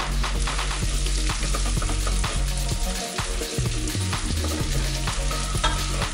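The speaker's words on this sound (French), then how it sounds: "N'hésitez pas à mélanger pour éviter que votre ail colle au fond de la casserole." Garlic sizzles steadily in a saucepan over medium heat while a utensil scrapes and stirs in repeated strokes, close up and fairly loud, with no voices.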